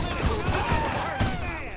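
Rapid bursts of gunfire from a GTA V heist mission ring out in quick succession, loud and close, with crashing impacts mixed in and no talking.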